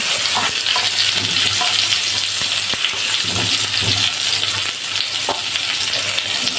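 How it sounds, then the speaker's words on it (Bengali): Onion and garlic frying lightly in a pan, a steady loud sizzle with occasional soft stirring scrapes and clicks, close up and without speech. "পেঁয়াজ আর রসুন হালকা করে ভাজবো আমরা"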